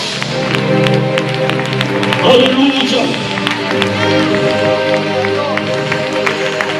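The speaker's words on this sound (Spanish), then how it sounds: "Dale un fuerte aplauso a Dios." A church congregation applauds, a steady wash of clapping spread through the room, with a voice calling out over it and loud, continuous crowd noise throughout.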